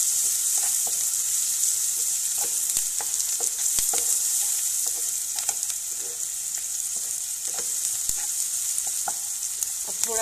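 Onion and capsicum frying in a pan for desi-style fried rice, a loud bright sizzle running throughout with repeated clicks and scrapes of a stirring spoon, no talking.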